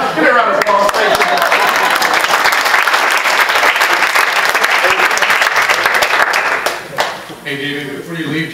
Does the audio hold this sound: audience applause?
yes